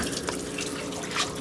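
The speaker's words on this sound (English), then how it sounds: "there is water coming out the top from the bottom reservoir" Water pumped up from the bottom reservoir of a worm composting bin splashes and trickles out the top in a steady, loud, continuous flow, heard close up with no talking.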